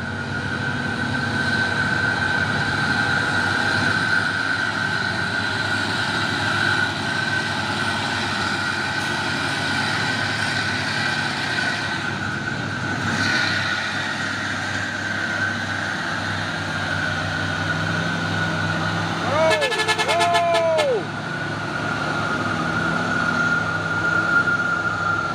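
An orange Fuso truck's engine labours steadily under load on a climb, a continuous heavy drone with a brief horn-like tone near the end, no voices.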